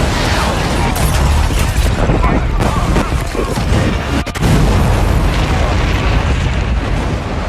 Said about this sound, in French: On vient de subir plusieurs explosions,